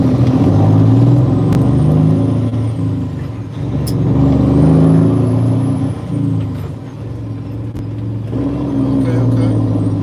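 Cars and trucks roll past on a busy road, a steady broad rumble with swells as heavier vehicles go by and a brief air-brake hiss, heard from inside a truck cab with a voice talking over it.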